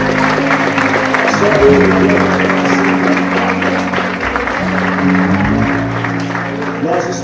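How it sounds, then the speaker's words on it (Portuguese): A church congregation claps continuously in the background while a pastor talks over the applause. "aplauda o nome de Jesus"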